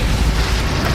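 Confringo spell blast in the video game Hogwarts Legacy, a dense, rumbling explosion with heavy low boom and broad crackling noise filling the whole moment at full loudness.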